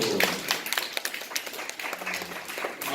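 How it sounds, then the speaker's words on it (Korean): A church congregation claps together after a baptism, a dense scattered round of hand claps filling the space at moderate loudness, with no voices over it. "다 같이 우리 박수."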